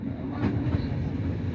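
A passenger train rolls along the rails in Romania, a steady close rumble with rhythmic clickety-clack of wheels over joints, no voices over it.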